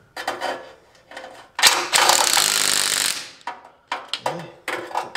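A power tool tightens a nut on the engine of a 2010 Subaru Forester, with rapid bursts of ratcheting hammering, one long sustained run in the middle, and several short blasts after it, all close and loud.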